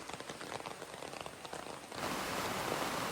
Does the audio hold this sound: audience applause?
no